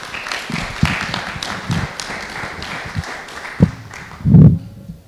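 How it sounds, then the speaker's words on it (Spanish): An audience gives scattered applause to welcome a doctor as speaker at an afternoon event in San Cristóbal de las Casas, with irregular taps and claps and a louder low thump near the end. "Damos pues la bienvenida al doctor Manuel Jiménez Durantes con un fuerte aplauso"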